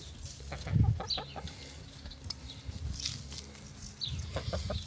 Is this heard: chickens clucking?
yes